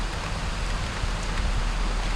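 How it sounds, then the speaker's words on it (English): Rain falls steadily on a garden of freshly planted pepper plants, making a dense even hiss of drops with a few closer patters and no voices. "It's raining."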